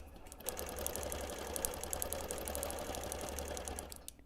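A sewing machine does free-motion quilting on a hexie quilt, a faint, steady, fast mechanical whir with a rapid ticking stitch rhythm that runs evenly for about four seconds before stopping.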